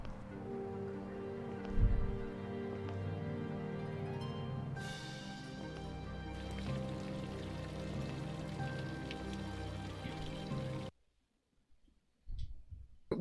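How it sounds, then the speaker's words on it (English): Steady rushing flow of running water fills a narrow hallway in the Nancy Drew game Mystery of the Seven Keys, a continuous close wash of noise with no voices, cutting out sharply near the end. "We were getting really intense running water sound in that little hallway"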